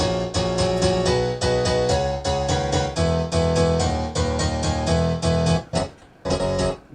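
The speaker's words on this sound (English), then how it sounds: "It's a Korg M1, and the preset is called M1 House Split." Korg M1 piano on the M1 House Split preset, unprocessed, pounding loud house-style chords in a steady rhythmic pattern, close and dense, with a brief break near the end.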